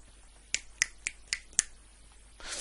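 Five crisp finger snaps sound close and clear at roughly even intervals, followed by a short soft rustle.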